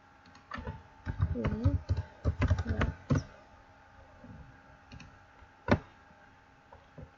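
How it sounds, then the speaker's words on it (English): Typing on a computer keyboard while entering text with a Photoshop text tool, a loose run of sharp clicks and taps, close and fairly clear, with brief soft voice-like sounds mixed in. "let's type"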